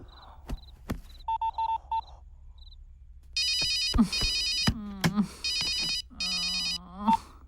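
A phone rings in a Telugu comedy scene with repeated electronic ringtone bursts, short beeping patterns, then longer warbling rings that alternate with a voice speaking between them.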